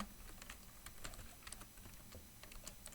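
Fast, steady keystrokes on a computer keyboard as PHP code is typed, soft and close over a constant background hiss, with no voices.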